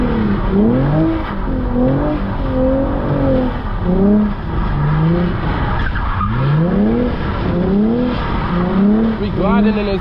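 Lexus RC 350 drifting on a wet street in the rain, engine repeatedly revving up and down in loud close sweeps with tire squeal mixed in, while a voice talks over it.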